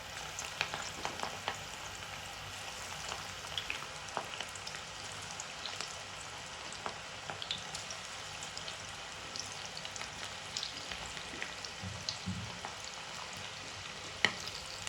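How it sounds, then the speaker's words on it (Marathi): Green chickpea bhaji fritters frying in hot oil over a medium flame, a steady soft crackle with scattered small pops and occasional spoon knocks, no talking. "तेल तापल्यावरती त्याच्यामध्ये तयार केलेल्या मिश्रणाचे भजे सोडून द्यायचे."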